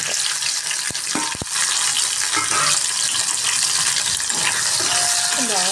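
Onion and tomato frying in a pan for oats upma are stirred, with a bright continuous sizzle under scraping spoon strokes and occasional clinks, close and fairly loud.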